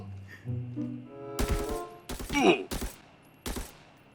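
Several bursts of rapid gunfire crack loudly in short volleys in the video game Arena Breakout, with a brief voice and electronic tones before the shooting starts.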